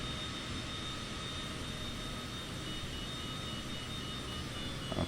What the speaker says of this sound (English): This plane definitely has some powerful engines on these little jets